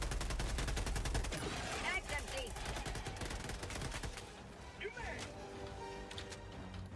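Rapid assault rifle fire in a first-person shooter video game, dense repeated shots rattling steadily through the whole stretch alongside other game noise, with a voice talking over part of it.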